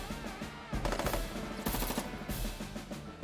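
Infantry open fire in Advance Wars, bursts of rapid machine-gun shots in quick succession, loud and close, with no talking.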